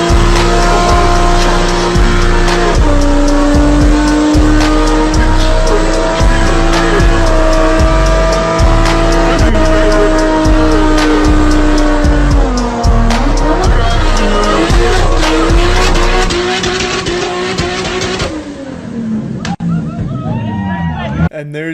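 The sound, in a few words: car doing a burnout in a backyard, tires squealing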